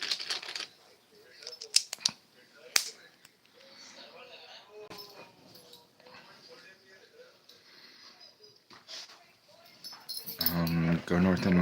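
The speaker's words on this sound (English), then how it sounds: "warning, beefy dog barks at danger" A large dog barks in a few sharp bursts near the start, with quieter household sounds and a rising whine or voice-like tone near the end.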